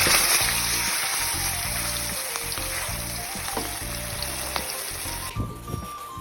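King mackerel frying in hot oil gives a loud, dense, continuous sizzle with bubbling crackle throughout, briefly dropping near the end.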